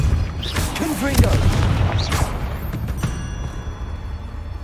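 The Confringo explosive spell going off in the Hogwarts Legacy video game, with loud booming blasts over a rumbling low background and brief voice sounds in between.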